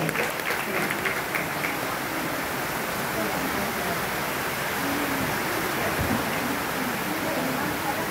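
An audience at a community religious celebration applauds a couple with a dense, steady wash of clapping that continues evenly throughout, sounding broad and somewhat distant.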